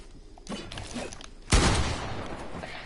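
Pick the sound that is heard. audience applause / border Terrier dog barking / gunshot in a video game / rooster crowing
gunshot in a video game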